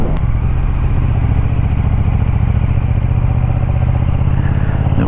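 A motorcycle rides along the River Weser on a sunny day, its engine a loud, steady close-up drone with rhythmic low rumble throughout.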